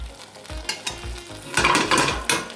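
A steak sizzles hard in a frying pan while it is quickly basted, with rhythmic scoops and splashes of hot fat and a louder burst of spattering near the end.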